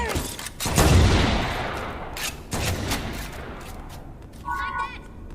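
Gunfire in Halo: Combat Evolved Anniversary, with loud bursts of automatic fire near the start and mid-clip, then a short electronic weapon sound near the end, alone without talk.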